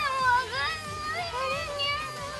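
During a Japanese radio variety show, a person imitates a cat with several drawn-out, wavering meows in quick succession. The meows sit close to the microphone over a faint rhythmic background.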